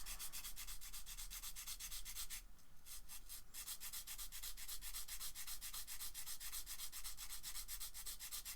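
High-grit sandpaper rubbed rapidly back and forth over a marble base, a fast rhythmic rasping stroke that pauses briefly and resumes, close and fairly quiet with no talking.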